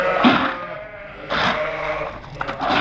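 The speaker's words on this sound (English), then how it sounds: "If I shake this, these ewes will follow me into that other shed." Ewes bleat in a lambing shed, with a few loud, close, drawn-out calls that overlap and come in separate bursts, set against a busy background of other sheep.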